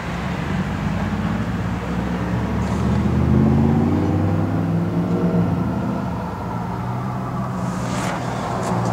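A 1969 Pontiac Firebird convertible's V8 engine runs close by with a steady, throaty rumble, swelling briefly as the revs rise and then dropping back to idle.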